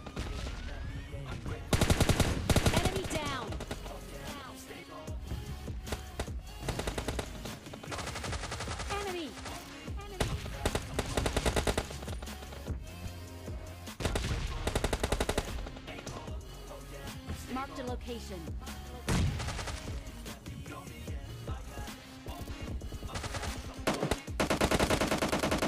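Enemy teammates firing at the player in PUBG Mobile Lite: dense, loud gunfire that runs almost nonstop, with rapid automatic bursts and single shots over busy game ambience.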